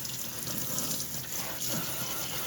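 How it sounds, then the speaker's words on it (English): Tap water pours steadily into a sink, rinsing dish soap off a dishwasher filter, a continuous soft hiss and splash at low volume. "So I'm just going to rinse this off"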